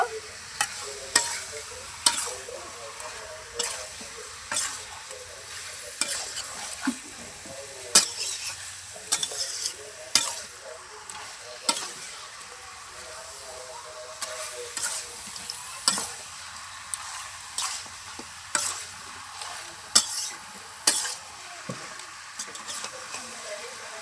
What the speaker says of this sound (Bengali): মাংসটাকে ভালোভাবে কষিয়ে নেব